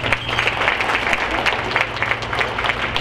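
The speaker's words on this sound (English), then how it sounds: "So please give EduTech Tutorial Services a round of applause." Audience applause at a banquet fills the room with a dense, steady patter of many hands clapping, loud and close, with some crowd murmur mixed in.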